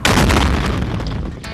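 A 2.2-pound C4 charge detonates in one loud, sustained blast with a deep, booming low end that rumbles and slowly decays over a second and a half.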